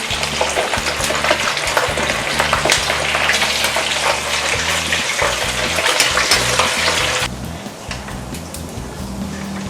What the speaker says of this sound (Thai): คราวนี้พอเราทอดไปเราก็สังเกตนะคะว่า หนังหมูเนี่ยเริ่มฟูขึ้นมา